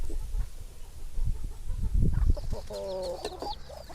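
Chickens cluck and murmur close by over steady background noise, with a higher, repeated call joining in toward the end, likely ducks nearby on a farm.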